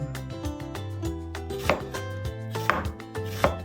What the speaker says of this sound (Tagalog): And then yung onion, gusto ko yung maliliit na pagkahiwa.